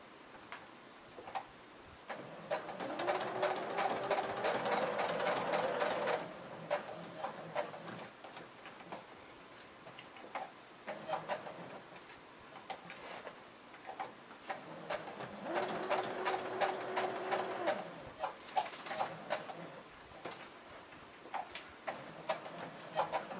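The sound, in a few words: sewing machine stitching Velcro onto a bag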